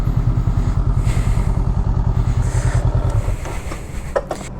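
A Honda Rebel motorcycle rides along with a loud, close engine thumping in a quick, even pulse that fades toward the end, giving way to a softer rumble and a few clunks.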